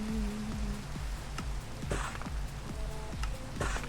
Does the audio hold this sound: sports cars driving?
no